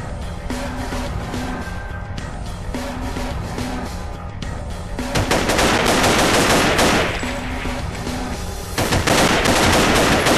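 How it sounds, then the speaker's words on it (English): Sustained automatic gunfire and rattling shots from the video game Paranoia fill the mix over a constant game soundtrack, intensifying partway through with dense bursts. "just shoot the guy trying to kill you"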